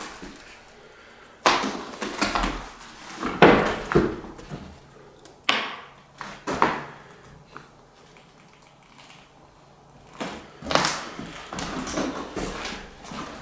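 A door in an abandoned house is pushed shut with several knocks and bumps spread over the span, moderately close and separated by quiet gaps.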